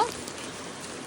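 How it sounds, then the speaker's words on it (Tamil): Steady rain pours down in a continuous broadband hiss, close and fairly loud, with no other sounds standing out. "மழை வந்துட்டு சாரி"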